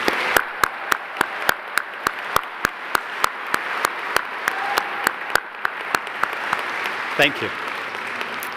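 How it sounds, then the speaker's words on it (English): Audience applause at a 2018 Duke Engineering undergraduate ceremony, honouring students: a steady wash of clapping with sharp regular claps standing out, lasting throughout, with a brief spoken thanks over it near the end. "So please applaud these students one more time."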